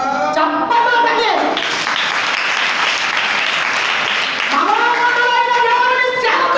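Congregation clapping steadily at a church sermon, sustained dense applause filling the room with a voice speaking over it at the start and end.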